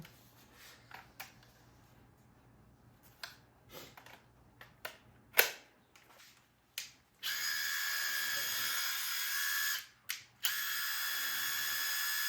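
A Makita brushless cordless impact driver from a multi-tool kit gives several short clicks and spurts, then runs for a few seconds in one sustained high whine before stopping and blipping again.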